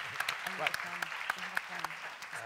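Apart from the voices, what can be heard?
audience applause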